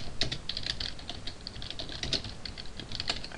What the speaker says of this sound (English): can't talk and type at the same time.